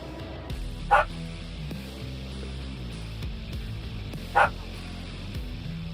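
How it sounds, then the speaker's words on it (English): A dog barks outdoors, two short separate barks spaced a few seconds apart over a steady background of game sound and music. "Because another dog is barking outside."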